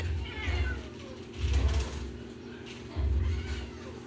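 Pet cats, a mother among them, meow in a few separate drawn-out calls spaced across the moment, fairly close, with a little background noise in between.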